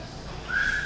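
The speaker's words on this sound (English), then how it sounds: "Thank you for the whistle." A single sharp whistle rises from the audience at a small, intimate live comedy show, a high steady tone about half a second long standing above a low room murmur.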